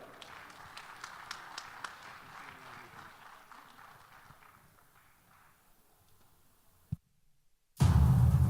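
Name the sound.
audience applause for a speaker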